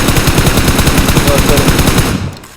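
Rapid automatic gunfire during a firefight in the mobile game PUBG Mobile, a loud, dense burst of regular shots that cuts off near the end.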